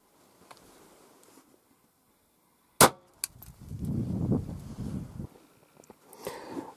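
A single sharp .22 rimfire gunshot fired at a steel-toe leather boot, one loud crack followed by a brief echo and some lower rustling noise afterward.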